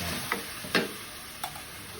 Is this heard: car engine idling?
no